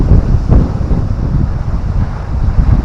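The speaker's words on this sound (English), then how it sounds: "it's windy." Strong wind gusts buffet the microphone on the seashore at Saltom Bay in the Lake District, a loud continuous low roar with surging gusts and surf beneath.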